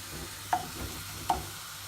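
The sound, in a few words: stirring browned onions frying in a pan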